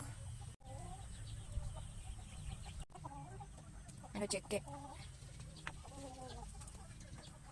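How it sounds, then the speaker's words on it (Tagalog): Chickens cluck intermittently in the background amid outdoor ambience near a bahay kubo under a tree, with a person speaking briefly nearby. "Ang aming mga manok."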